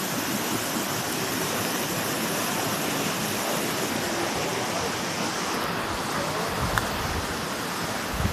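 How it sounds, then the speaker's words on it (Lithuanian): A river's flowing water makes a steady, broad rushing wash that fills the whole stretch evenly and sounds close, with no talking over it. "Čia upė."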